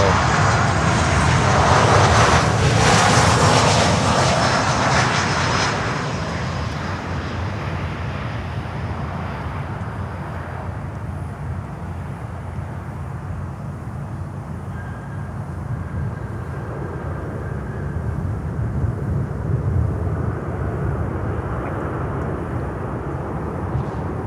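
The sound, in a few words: American Airlines Boeing 737 jet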